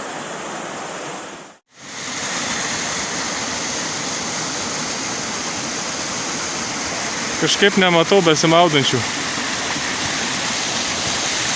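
Rushing water from a river running past hot spring pools in Greece, a steady broadband roar filling the whole clip, with a short dropout near the start and a person speaking briefly over it.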